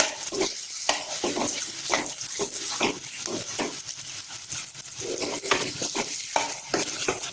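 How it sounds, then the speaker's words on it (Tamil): Potato masala for stuffed aloo chapathi is stirred and scraped in a pan, with repeated spoon strokes over a soft sizzle in a quiet, close-up kitchen. "ஒரு தடவை நல்லா கிளறி விட்டுருங்க"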